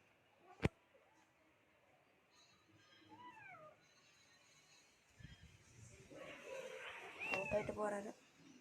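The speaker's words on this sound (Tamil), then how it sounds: "இங்கே பாருங்க ஒரு பூனை." A cat gives several soft, distant meows amid quiet background noise, after a sharp single knock, with faint voices toward the end.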